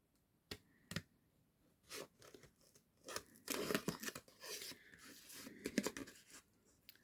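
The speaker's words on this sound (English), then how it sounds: "But then don't forget, you got to cut around the buckle now." Scissors snipping paper to cut around a buckle shape for a card project, a quiet close sequence of small crisp cuts and rustles, alone with no talk.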